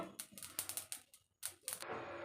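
Mustard seeds spluttering in a hot pan of oil with fenugreek seeds, sharp crackling pops in quick irregular bursts, followed by a brief sizzling hiss.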